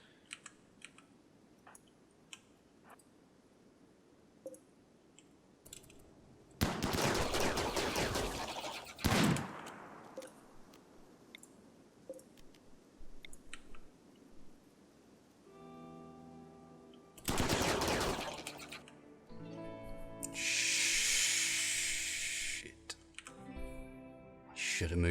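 Gunfire in the Rimworld video game, bursts of rapid crackling shots in two loud stretches separated by quiet gaps with scattered clicks, later followed by layered game tones and a bright electronic chime.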